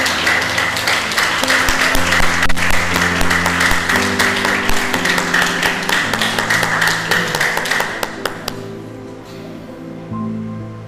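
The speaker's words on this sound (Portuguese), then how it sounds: "Aplauda o Senhor." A church congregation applauds over sustained organ or keyboard chords, loud clapping with a few close claps, cutting off abruptly near the end while the music carries on.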